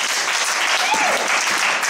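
Church congregation applauding, a brief dense burst of clapping with a few faint voices mixed in, close and steady throughout.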